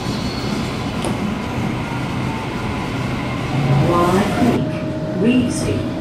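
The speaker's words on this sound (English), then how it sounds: "This is a new Waratah train, having its maiden journey." A new Waratah Series 2 electric passenger train rumbles steadily along the rails with a constant low drone, a faint high tone joining near the end; passing swells of louder noise come and go.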